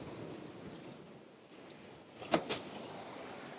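A short metallic jingle of a key being taken out of a Citroen Ami, two quick clinks close by, over a steady low hum of background noise.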